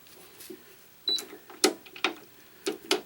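String tensioner pulling tension on a cross string while stringing a racquet, a series of sharp mechanical clicks and ratchet snaps at irregular intervals, close and fairly quiet.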